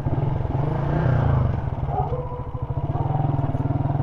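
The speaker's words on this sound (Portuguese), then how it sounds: "E vem vindo uma moto rasgando lá." A motorcycle speeds along the road nearby, its engine a loud, pulsing rumble that swells and then settles into rapid throbbing, with no talk over it.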